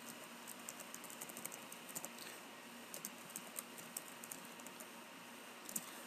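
Faint, irregular keystrokes on a computer keyboard while a document is typed in Microsoft Word, with soft clicks tapping steadily through a quiet room.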